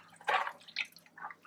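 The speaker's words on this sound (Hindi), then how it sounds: "इसमें पानी में यहाँ पे डाल रही हूँ तकरीबन 6 कप जितना।" Water being poured into a pot of chana dal in a home kitchen, heard as a few short splashy bursts of liquid, near and fairly soft, with no talking.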